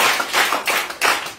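A church congregation claps together in steady rhythmic bursts, close and lively, with a few distinct pulses across the short span and no speech.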